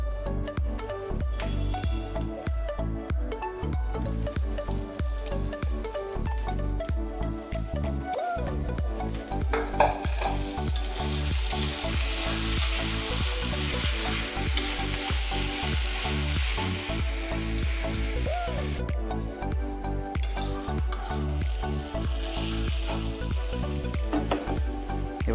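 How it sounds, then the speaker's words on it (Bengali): Shredded boiled chicken going into a pan of spiced masala for dhaba-style chicken bharta, with a steady close sizzle and frequent scraping, clattering stirs throughout, no talk. "এবার এতে আমরা যে মাংসগুলো ছাড়িয়ে রেখেছিলাম সেগুলোকে দিয়ে দিচ্ছি।"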